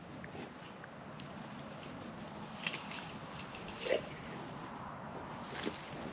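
A fresh red apple picked in an Ontario orchard is bitten into, giving a few soft, faint crunches spaced apart over a quiet outdoor background.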